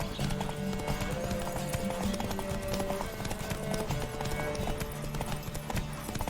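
Rapid rhythmic hoofbeats of a galloping horse in The Witcher 3 pound steadily throughout, dense and close, over a constant background hum with brief tonal notes.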